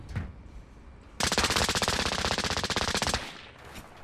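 Automatic gunfire from a shooter video game, a loud rapid burst of evenly spaced shots lasting about two seconds, preceded and followed by quieter game ambience.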